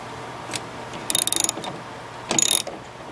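A wrench clicks as it loosens the 5/16-inch tail light bolts on a Ford truck, giving two quick bursts of ratcheting near the mic with a short pause between them.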